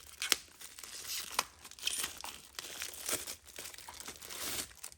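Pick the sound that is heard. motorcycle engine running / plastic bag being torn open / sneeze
plastic bag being torn open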